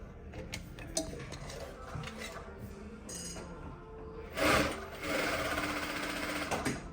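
A PK8700D-PK9900D sewing machine bringing up its bobbin thread: close mechanical ticking and whirring, a short sharp burst, then a steady motor run. No one speaks.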